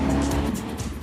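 Lightweight Ariel Atom and KTM X-Bow sports cars drive close by with a loud engine drone and a brief tyre squeal, and no one speaks.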